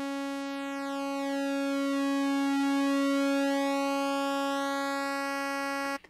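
A Melbourne Instruments Delia synthesizer holds a single steady, buzzy, harmonic-rich note with a raspy edge and a faint sweeping filter, sustained alone for about six seconds before stopping abruptly.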